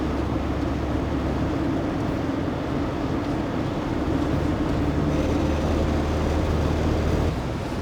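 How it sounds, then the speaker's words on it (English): A UAZ Buhanka 4x4 camper van engine runs on gas, a steady low droning hum with constant road and cabin rumble, smooth and unbroken throughout. "The engine vibration went down a little bit."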